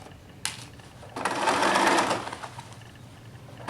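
A domestic sewing machine runs in a short, steady burst, stitching a set-in sleeve around a garment armhole, close and clear, with a click just before it and quiet afterwards.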